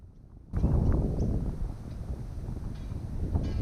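Gusting wind buffets the microphone while fishing outdoors, a low rumbling roar that kicks in suddenly after a quiet moment and keeps blowing steadily.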